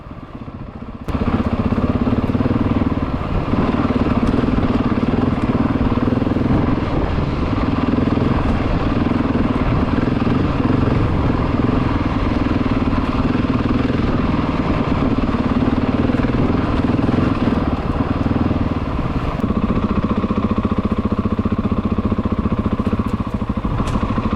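A Husqvarna 701 dual-sport motorcycle on TKC 80 tires climbs a rocky, technical trail, its engine droning steadily and loudly throughout with small throttle changes and clattering over rough ground.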